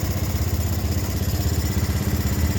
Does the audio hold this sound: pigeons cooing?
no